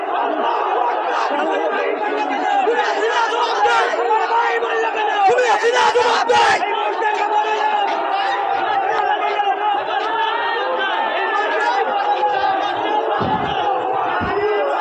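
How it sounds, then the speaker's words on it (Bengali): Student protesters chant 'bhuya bhuya' slogans in a city street, a loud, crowded chorus of rhythmic shouting voices that continues throughout. "ভুয়া ভুয়া স্লোগানে মুখরিত করেছে রাজপথ"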